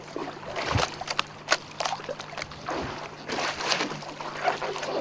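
A stand-up paddleboard paddle dipping and pulling through water outdoors, soft repeated splashes and sloshing strokes with a low background of moving water.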